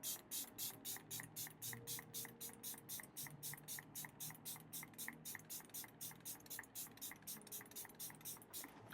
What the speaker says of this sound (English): with this LYS Natural Finish setting spray